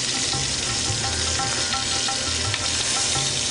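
Meat browns in a hot pan with a loud, dense, continuous sizzle, close and steady, no talking.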